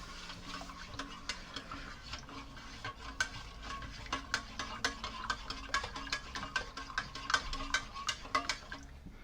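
A soup spoon stirs reproduction WWII British ration soup in a small pot, giving a steady run of close, bright metallic clinks and scrapes against the pot's sides with no talking.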